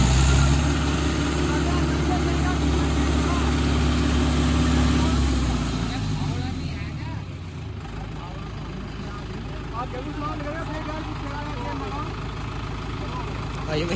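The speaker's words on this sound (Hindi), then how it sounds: "पहिए जो है ट्रैक्टर के वे वहीं के वहीं चक्कर बना रहे हैं ना तो आपका को चल रहा ट्रैक्टर ना पीछे" A Mahindra 575 tractor stuck off-road runs with a deep, heavy engine drone while its wheels spin in place. The engine is loudest at first, then eases to a lower rumble, with people talking over it throughout.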